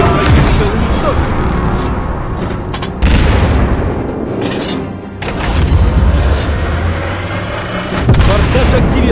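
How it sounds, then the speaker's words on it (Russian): Enemy warship blowing up as it is destroyed in the mobile naval battle game World of Warships Blitz: loud, dense booming blasts and crashing impacts with rumbling bursts continuing throughout, under a continuous wash of combat noise. "Корабль противника уничтожен!"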